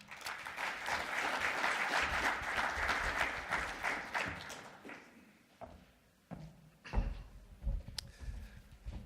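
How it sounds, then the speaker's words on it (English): An audience at a lecture session on inequality applauds an introduced speaker: a dense round of clapping for about five seconds, thinning into scattered claps and a few knocks and taps as it dies down. "Please give a round of applause to Dr. Jamie White."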